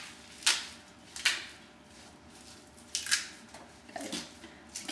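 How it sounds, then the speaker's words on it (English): Kale leaves torn apart by hand into bite-sized pieces for a salad, heard as several short, crisp ripping bursts spaced across a few seconds, fairly close and alone without talk. "just to kind of tear it off and rip it rather than trying to cut it"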